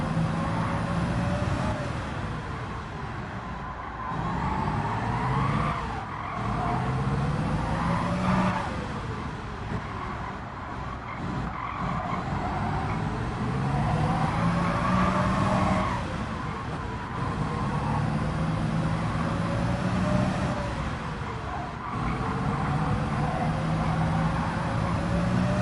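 A Corvette CX hypercar drives a time trial run in Gran Turismo 7, its engine droning loud and continuous with repeated pitch sweeps as it accelerates, shifts and brakes through corners.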